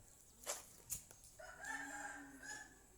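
A rooster crows once at moderate distance, a rising and falling call lasting over a second, preceded by a couple of sharp clicks or claps and faint background noise.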